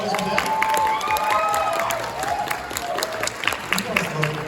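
A convention panel crowd bursts into loud applause and cheering for the voice actors, sustained clapping and whoops filling the room.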